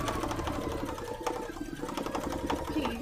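A sewing machine stitches fire-pattern embroidery for a cosplay costume, its rapid needle rhythm running steadily and close for the whole stretch.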